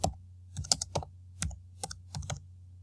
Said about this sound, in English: You can search the encyclopedia by typing in keywords